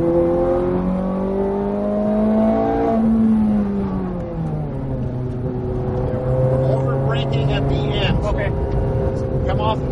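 A Ferrari 430 Scuderia revs hard on a race track, its engine note climbing loudly through the gears with a brief dip at a shift, heard from inside the car over a steady roar.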